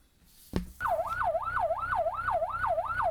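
Ambulance siren at a rural community health centre handover, a thud followed by a steady wailing yelp rising and falling about twice per second, loud and close over engine rumble.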